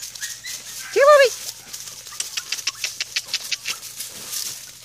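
A puppy lets out one short high whimper, followed by a run of quick light pattering and scuffling sounds, near and moderately loud, with no talk.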